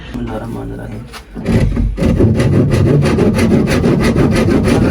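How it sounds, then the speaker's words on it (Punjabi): A hand saw cutting wood for a dog whelping box, loud close rhythmic rasping strokes that start after a brief pause and continue steadily, with people talking over it. "ਇਹ ਨਿਸ਼ਾਨ ਲਾ ਕੇ ਤੇ ਮਾੜਾ ਮੋਟਾ ਕੱਟਣ ਦੀ ਕੋਸ਼ਿਸ਼ ਕਰਦੇ ਆ"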